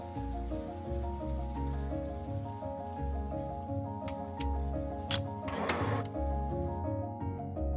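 Yarn spinning machine in a spinning mill, a dense rhythmic mechanical hum with regular pulsing beats, sharp clicks and a brief hissing burst, no talk.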